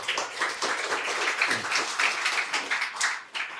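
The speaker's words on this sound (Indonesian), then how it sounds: "Oh ya, tepuk tangan." An audience claps together in applause at an Indonesian talk on writing, a steady, fairly close patter of many hands that continues throughout and briefly dips near the end.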